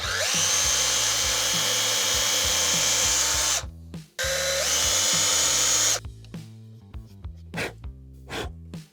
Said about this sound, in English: Anyway, time to drill.